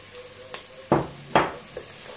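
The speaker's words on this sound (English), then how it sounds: "I'm gonna add the garlic now." Garlic frying in a pan while preparing meat pies with mushrooms: a low background sizzle broken by two sharp, loud bursts of spitting as pieces hit the hot pan, close up with no talking.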